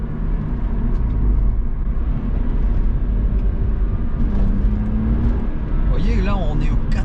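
BMW Z4 E85 roadster engine droning steadily from inside the cabin as it accelerates past 3000 rpm, a continuous loud hum with rising tones near the end, while someone talks over it.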